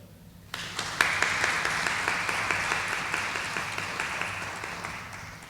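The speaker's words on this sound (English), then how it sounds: "Let's have a round of applause for GEA." Applause breaks out abruptly after a brief quiet moment at a school counselor of the year awards event, with many people clapping close together at a steady level before gradually thinning out.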